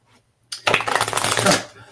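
A deck of Kipper cards being shuffled after a brief quiet pause, a dense rapid riffle of flicking cards lasting about a second and a half.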